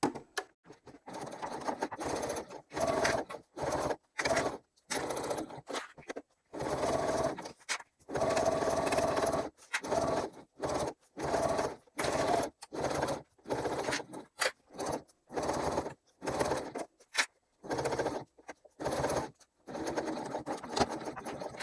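A sewing machine bastes a flat exterior slip pocket in place, running in short bursts of fast rhythmic stitching broken by brief pauses, close and clear with no talk.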